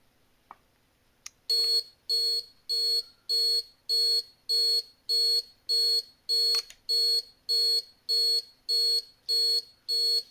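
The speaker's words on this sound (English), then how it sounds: "The receiver should turn on the alarm." An electronic alarm on a package delivery alarm receiver beeps in a steady, rapid repeating pattern of loud, evenly spaced tones after a couple of faint clicks.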